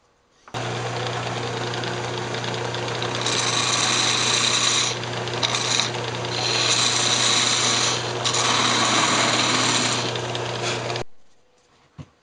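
A wood lathe turns a tenon on a cocobolo box, with a steady motor hum beneath scraping tool cuts that swell and fade in several passes, close and fairly loud, stopping abruptly near the end.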